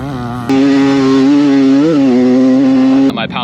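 A 30-year-old Honda CR250 two-stroke dirt bike engine holds a loud, steady high idle for a few seconds, buzzing with a slight wavering surge midway before cutting off abruptly, with no voices over it.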